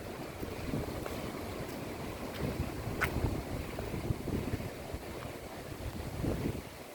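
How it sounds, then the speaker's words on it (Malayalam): Sea waves at Payyambalam beach in Kannur roll in as a low, continuous surf rumble mixed with wind buffeting the microphone, fairly soft and steady, with no one speaking. "കടൽ തിരമാലകളൊക്കെ ഇന്ന് കാണിക്കട്ടോ"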